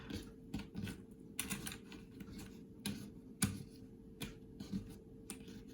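Cards for the Western Legends board game being shuffled back into the deck, a close series of light, crisp clicks and snaps at an uneven pace over a steady low background, with no talking.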